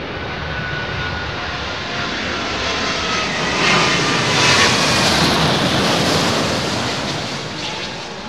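An airliner lands at London Heathrow in high winds, its loud jet roar building and peaking mid-pass as it touches down, with heavy wind buffeting the microphone throughout.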